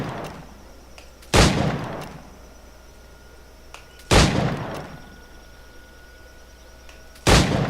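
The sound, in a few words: gunshots in the Assassin's Creed 4 shooting challenge video game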